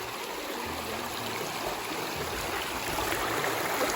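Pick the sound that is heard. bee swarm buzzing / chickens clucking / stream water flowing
stream water flowing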